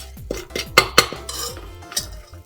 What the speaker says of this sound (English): I'm gonna move it and let the masala cook for some time.